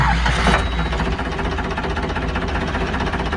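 A restored Ford tractor engine turns over and settles into a steady, rumbling idle, loud and close throughout.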